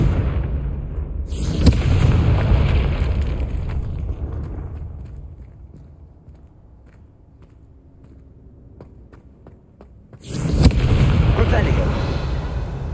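Confrigo spell blasts in the Hogwarts Legacy video game on PS5, a booming burst near the start and another loud blast near the end, with a quieter rumbling lull between them.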